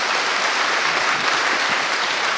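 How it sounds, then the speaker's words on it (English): Steady, dense applause from a conference audience at a hacker event, filling the moment evenly and loudly with no talk over it. "I can have a little applause for Hamza and Alex."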